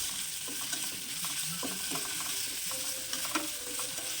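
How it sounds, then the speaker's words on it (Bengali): Small chicken pieces sizzle steadily in oil in a frying pan, with a constant hiss and occasional scraping taps of a spatula stirring them. "আবারও আমি ফ্রাই প্যানের মধ্যে তেল দিয়ে দিয়েছি আর এখন দিয়ে দিলাম ছোট ছোট টুকরো করে রাখা চিকেন"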